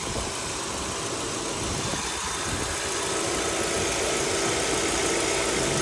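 A Kia Cerato idles steadily with its AC compressor fan running, a close, even hum and whir that stays constant the whole time with no talk.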